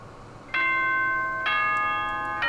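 A doorbell-like ding-dong chime from the video game Danganronpa: two clear, bright electronic tones sounding one after the other, loud and alone with a ringing sustain.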